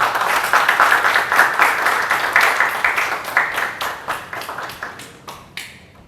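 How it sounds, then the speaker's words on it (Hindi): Crew and cast on a television serial's set clap in a brisk burst of small-group applause that thins out into scattered, separate claps before stopping. "तालियां!"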